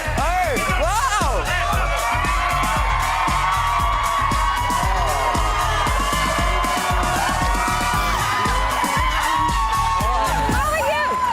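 A live launch crowd cheering and shouting loudly, with excited children's whoops and hubbub filling the space, dense and continuous with bursts of louder screams over pulsing background music.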